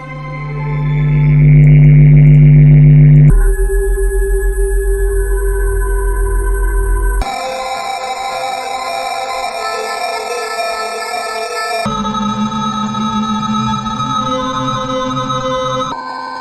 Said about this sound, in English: This is like a pad sound.